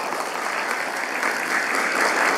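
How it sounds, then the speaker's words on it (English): Applause for an award recipient at a university leadership and service awards ceremony, a dense, steady wash of clapping from a sizeable audience, sustained and slightly building over a couple of seconds. "Let's give her another round of applause."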